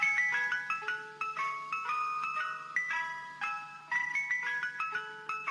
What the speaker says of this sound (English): That is actually the sound of a Mr. Softy ice cream truck.